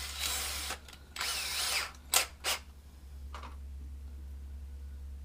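Power drill driving deck screws into the solid-cored deck of a C-Dory 22 boat, in a few short bursts of whirring with pauses between, close and fairly loud, no talking.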